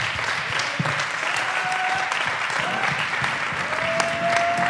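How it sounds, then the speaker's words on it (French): An audience claps after a chessboxing bout, a dense steady patter of many hands at moderate distance with a few sharper individual claps standing out. "Voilà, on peut applaudir."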